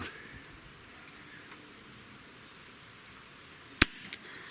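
A single sharp, loud gunshot from a Chiappa Rhino 50DS revolver cracks out of a quiet, rain-like hiss of background noise, followed moments later by a smaller echoing report.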